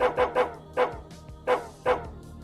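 Dog barks from the Psychopomp video game: a series of about seven sharp, fairly close barks in uneven bursts, some doubled, standing alone without talk.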